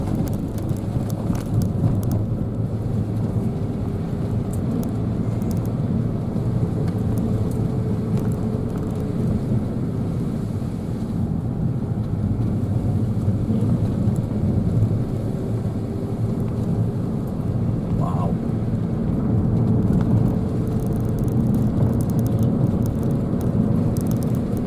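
Car driving along a bumpy, winding scenic road, a steady low rumble of engine and road noise with wind buffeting throughout, continuous and fairly loud with no talking.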